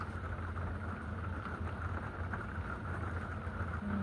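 Steady rain falls outside in a dense, even hiss with a low rumble underneath, constant and unbroken throughout, with no voices.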